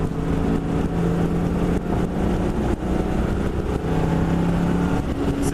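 A cammed 2000 Ford Mustang GT accelerates under partial throttle, a loud, continuous engine drone with a rough idle lope rising and holding, heard from inside the car with no talking.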